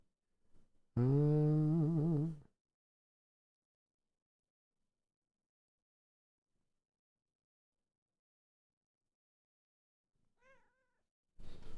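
A house cat lets out one loud, drawn-out meow close by, then long silence, a faint brief mew near the end and a short noise at the very end.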